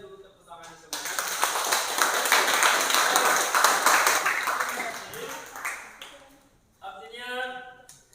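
A class of students claps enthusiastically, a dense burst of applause lasting several seconds that fades out, with a voice speaking before and after.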